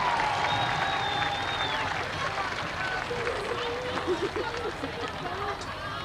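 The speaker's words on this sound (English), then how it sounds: "Please join me in giving our queen another big round of applause, Miss Julia Evans." Crowd noise with clapping and scattered cheers at a high school football game, mixed with a voice over a loudspeaker.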